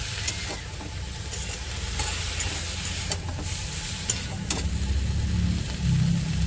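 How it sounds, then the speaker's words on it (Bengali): Fried prawns and red amaranth leaves are stirred together in a pan, giving a steady sizzle with scraping spoon strokes and a low background hum throughout, with no talking. "দিয়ে সব একসঙ্গে ভালো করে একটু নাড়াচাড়া দিয়ে নেব"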